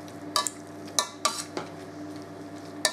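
Mashing boiled potatoes with butter in a pot for Tatar kystybyi, a handful of sharp metallic knocks and scrapes of a masher against the pot, spaced irregularly over a quiet background.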